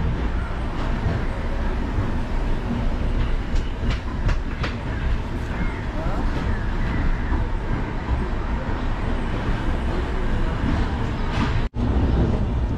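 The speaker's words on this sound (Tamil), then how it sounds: "நம்மளோட ட்ரெயின் கிளம்பிடுச்சுங்க செங்கோட்டையிலேருந்து" The Pothigai Super Fast Express, heading from Sengottai toward Tenkasi and Trichy, rolls along the rails with a constant loud rumble and rhythmic clickety-clack of wheels heard from inside the carriage, with a brief dip near the end.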